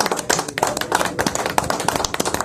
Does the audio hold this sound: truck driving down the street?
no